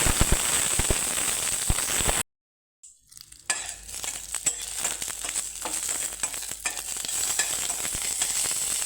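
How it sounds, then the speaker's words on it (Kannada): A tempering of mustard seeds, cumin, garlic, Byadagi chilli and curry leaves in hot coconut oil crackles and sizzles loudly with popping bursts, drops out briefly, then resumes as a steady spattering fry. "ಒಗ್ಗರಣೆಗೆ ಸ್ವಲ್ಪ ಕೊಬ್ಬರಿ ಎಣ್ಣೆ ಹಾಕ್ಕೊಂಡೆ"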